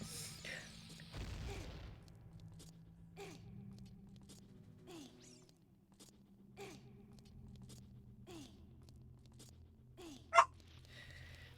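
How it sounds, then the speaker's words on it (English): A dog barking indoors in the background during a gaming stream, a series of short muffled barks spaced a second or two apart, faint and distant under a quiet room. "I'm sorry that you guys can hear my dog barking."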